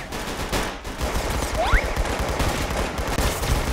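Henry rifle shots crack out in the online shooter game Roblox Arsenal, a few sharp reports mixed into dense, noisy game action, with no talking.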